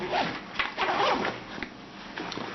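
Zipper on a smaller pocket compartment of an Eastpak daypack being pulled in a few quick, close rasping strokes, fairly loud with brief pauses between pulls.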